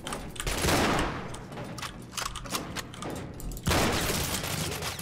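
Sustained enemy gunfire in the video game Cryostasis, dense bursts of rapid shots crackling throughout with a heavier volley near the end, loud and close.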